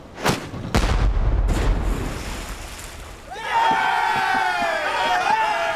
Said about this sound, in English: Starboard bow chaser! Fire! Fire!